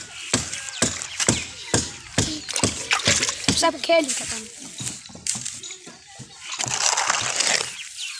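Wet sand and cement mortar, mixed with too much water, spills and splashes away in a run of sloshy bursts while someone talks over it in Hindi.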